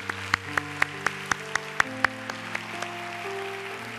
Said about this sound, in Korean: 우리 도란도란 식구들에게 한번 격려의 박수를 한번 해주시면 감사하겠습니다